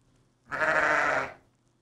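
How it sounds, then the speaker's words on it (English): A single sheep bleats once, clear and close, a wavering cry of nearly a second in an otherwise quiet setting, part of a children's series on domestic farm animals. "Sheep."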